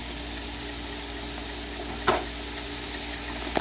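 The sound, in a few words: stir frying curry chickpeas with shrimp in pot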